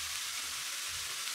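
Masala of salt, turmeric, chilli and garam masala frying slowly in a pan over low gas, a steady soft sizzle with a faint crackle, continuous and close, with no voices.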